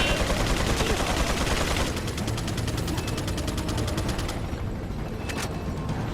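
Loud, dense gunfire from the game Resident Evil 4, rapid machine-gun bursts and overlapping shots rattling without pause, with a sharp crack near the end.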